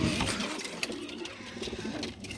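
Pigeons on a home balcony coo and stir in a low, continuous murmur, with faint rustling and soft calls layered close by and no talk.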